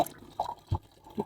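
Ketupat casings washed in water, with short splashy drips and sloshes in a quick uneven rhythm, close and fairly quiet.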